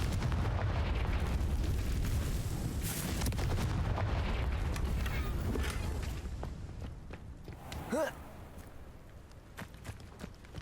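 A Confringo fire spell explodes in the Hogwarts Legacy video game on PC, a loud booming blast with crackling bursts that fades into a softer rumble and a few sharp pops near the end.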